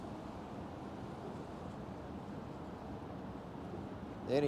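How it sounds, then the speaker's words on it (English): Water pours steadily over dam spill gates, a broad continuous rushing roar close by with no breaks, a small fishing spot just below the gates. "the water is coming over the spill gates"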